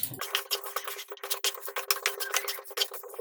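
Grated ginger being stirred into a fried green pea mixture in a pan for matar puri, with quick repeated scraping and clinking of a spoon against the pan, close and fairly loud, no talk.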